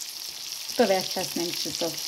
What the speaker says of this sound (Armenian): ես դեռ շարունակում եմ տապակել, արդեն կարելի ասել կեսը տապակել եմ